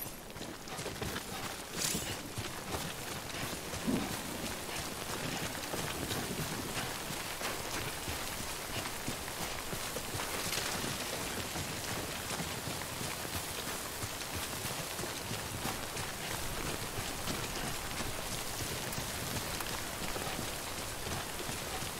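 Steady, dense rainfall known as timefall in the video game Death Stranding, a continuous hiss of drops pattering on surfaces with faint footsteps beneath, constant and enveloping throughout.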